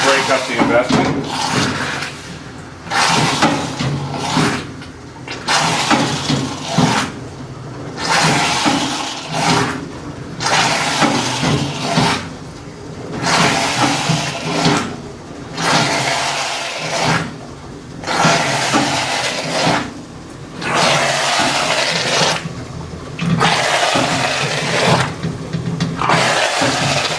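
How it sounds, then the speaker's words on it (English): A hot bronze casting lowered into water boils and seethes in bursts, with bubbling and rumbling swells rising and falling in a steady rhythm, loud and close. "The boiling and the vibration helps break up the investment."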